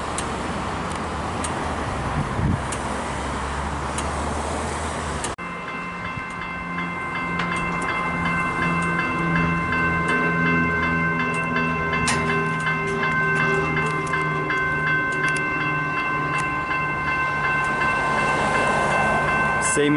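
A Melbourne Siemens train passes the Aspendale level crossing on the Frankston line: a broad rolling rumble at first, then a steady, close pass with sustained tonal ringing over the wheel and motor noise for the rest of the clip.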